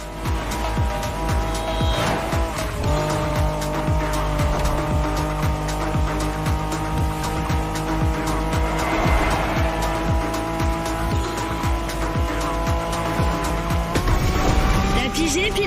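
A Honda NSX race car in The Crew Motorfest drives hard with its engine droning and rising, tires squealing and skidding through turns, loud and close throughout.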